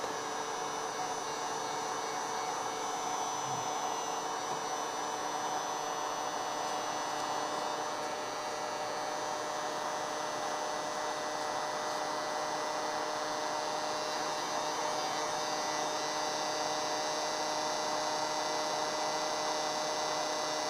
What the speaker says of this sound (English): I think we're gonna have to get out the heat gun just to loosen it up